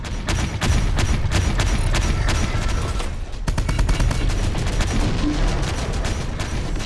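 Nearly seven seconds of dense, continuous gunfire and rapid shots fill a Pentagon raid battle in the Terminator Dark Fate Defiance strategy game, loud and unbroken apart from a brief dip midway, with no voices.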